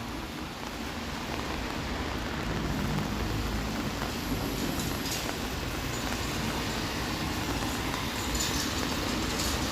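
Steady rain on a Toronto city street on a wet Saturday evening, a dense continuous hiss with low traffic rumble underneath, even and unbroken throughout.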